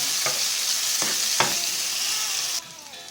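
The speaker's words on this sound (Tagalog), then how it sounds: "Mainit ng oil kaya ilalagay ko na ang sibuyas, ang bawang." Chopped onion and garlic sizzle steadily in hot oil for a tortang talong with hotdog, with a few sharp stirring scrapes before the frying noise drops off near the end.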